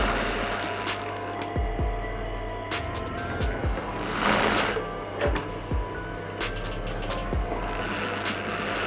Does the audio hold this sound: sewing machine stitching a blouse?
yes